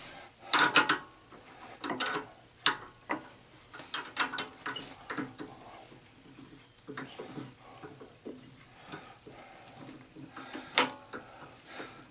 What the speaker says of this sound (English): So what I'm going to do is I'm going to go ahead and chuck this up.